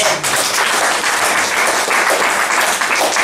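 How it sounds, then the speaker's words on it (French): A congregation at a French-language church service bursts into loud, sustained applause. Dense clapping fills the whole moment at close range. "Acclame Jésus"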